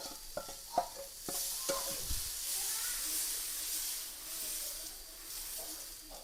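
Sardines fry in a pan with a steady sizzling hiss. A few sharp clinks and knocks from stirring come early on, and the frying stays moderately quiet throughout.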